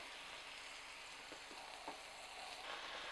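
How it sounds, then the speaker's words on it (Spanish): Chicken breasts sear in melted fat in a hot pan, giving a faint, even sizzle with a few soft pops and light shifting sounds. "vamos a poner las pechugas. Lo que queremos es sellar nuestras pechugas por todos los lados."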